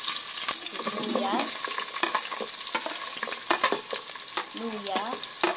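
Garlic and ginger fry in a hot pan with a loud, constant sizzle while a utensil scrapes and stirs in short bursts, close up throughout.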